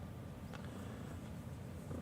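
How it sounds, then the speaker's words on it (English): A cat purrs loudly as a low, continuous rumbling drone, close but quiet overall, with no talking. "she is such a loud purrer. She purrs like a crazy kitten."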